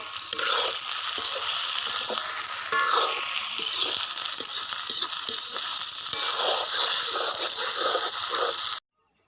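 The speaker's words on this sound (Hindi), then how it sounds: "इसको 5 से 10 मिनट हम अच्छी तरह फ्राई करेंगे।" Chicken karahi fries in a pan with a steady loud sizzle and the scrape of stirring, continuing until it cuts off abruptly near the end.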